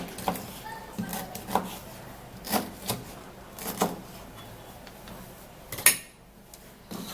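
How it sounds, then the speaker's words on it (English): A knife taps and scrapes against a cutting board in irregular, sharp strokes, close by, with quiet pauses in between. "let's cut and prepare for blending"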